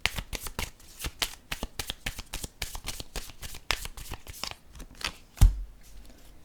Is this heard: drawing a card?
yes